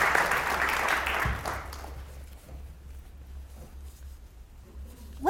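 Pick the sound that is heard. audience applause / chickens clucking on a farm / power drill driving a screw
audience applause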